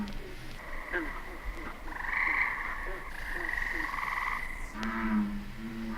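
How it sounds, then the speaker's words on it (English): Tree frog calling from a pond, a series of nasal croaking notes rising and falling over a steady background chorus, moderately near. "I hear in the background another note there. Well, that's the tree frog."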